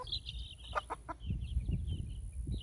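Soft, fairly distant hen clucks in a short series, a few quick chirpy notes over a low background rumble, with no talking.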